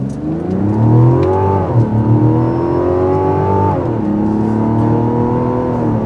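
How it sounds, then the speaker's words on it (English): The turbo engine of a 2025 Mazda CX-70 Turbo S SUV revs up hard and climbs in pitch through several gears on a high-speed road, loud and close, with no talking. "You can definitely hear the engine"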